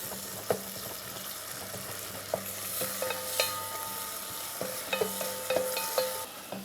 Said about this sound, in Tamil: இப்போ நம்ம வெங்காயம் தக்காளி நல்லா வதங்கணும்.